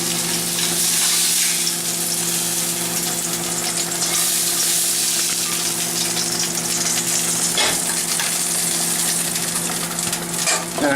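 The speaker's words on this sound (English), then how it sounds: "I'm gonna add my salmon here." Salmon sizzling in a hot pan for salmon paksiw, a loud, steady, close crackling hiss that holds throughout with a faint clatter partway through and no talk.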